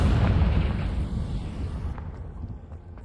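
A deep, rumbling blast from a fire-type blasting spell in a Harry Potter video game bursts loudly at the start, then decays into a fading roar over a few seconds.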